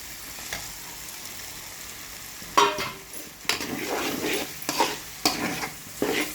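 Eggplant pieces sizzle and fry with chili powder in a pan, a steady hiss punctuated by several louder scraping stirs in the second half, close and without talk.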